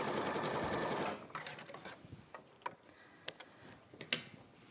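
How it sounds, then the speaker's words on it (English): A sewing machine stitches a row of fabric in a fast, dense run of clattering for about a second, then stops, followed by scattered soft clicks and handling sounds. "I'll sew that row and keep it in order"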